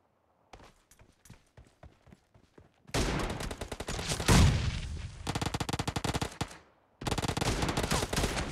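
Gunfire in the battle royale video game PUBG: a few scattered single shots give way to loud, sustained bursts of rapid automatic fire, broken by a brief pause, then resuming in dense rattling volleys.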